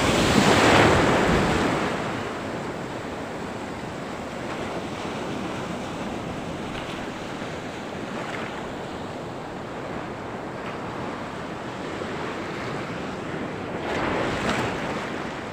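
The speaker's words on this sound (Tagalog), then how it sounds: "Kusog yung balon." Strong ocean waves surge and crash in a continuous loud roar, with heavy wind buffeting the microphone and a bigger surge at the start, heard from a boat during a fishing tournament.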